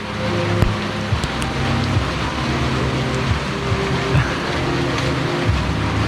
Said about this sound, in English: Raining pretty heavy, check that out.